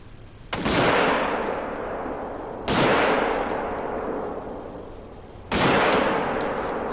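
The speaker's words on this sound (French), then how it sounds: "je t'entends tirer comme un dératé" Three heavy rifle shots ring out in the hunting game theHunter: Call of the Wild on a savanna buffalo hunt, each a sharp loud crack followed by a long rolling echo, spaced a couple of seconds apart.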